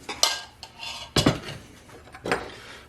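A utensil stirs blanched rice into a yogurt mixture in a bowl, making a few sharp clinks and scrapes with soft, wet stirring between them, close up and without talk.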